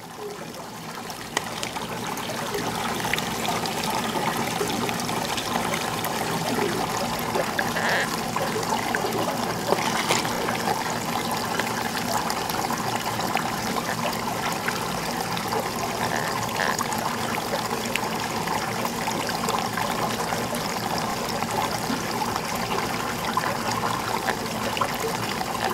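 Water runs steadily through a gold-mining hydrodynamic model, a constant close trickling and rushing flow with no pauses, heard alone without talk.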